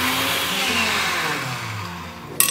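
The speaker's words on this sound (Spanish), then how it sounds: "y la vamos a meter a la licuadora" Kitchen blender grinding broken cinnamon sticks with a little water runs steadily with a loud, whirring motor hum and churning, ending in a brief clatter.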